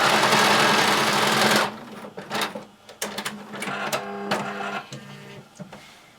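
A sewing machine runs a half-inch stay stitching line along the edge of circle skirt fabric: a loud continuous whir at first, then stops and gives way to short clicks, fabric handling and brief bursts of mechanical whirring.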